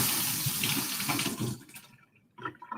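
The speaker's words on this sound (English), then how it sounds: "Let me rinse my hand off here real quick." Running kitchen tap rinsing hands, a loud close gush of water for about a second and a half before the flow cuts off, followed by a few faint drips and splashes.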